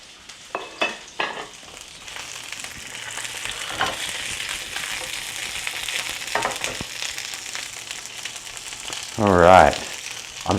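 Chicken pieces browning in hot peanut oil in a pan: a continuous low sizzle with scattered pops and utensil clatter, and a louder burst of frying near the end.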